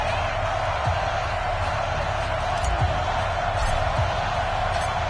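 A packed NFL stadium crowd before the Dallas Cowboys and New York Giants kick off in the final week of the season, with a broad, steady roar of voices and cheering and no single standout shout.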